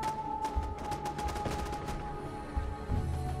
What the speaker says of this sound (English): I can hear gunshots in the distance